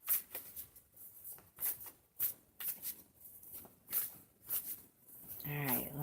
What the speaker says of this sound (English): It's telling me stop shuffling.